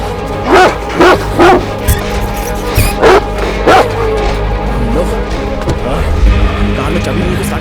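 A dog wearing a chip on its collar barks in several sharp yaps close by, then keeps up yips and whimpers under a loud, busy film soundtrack.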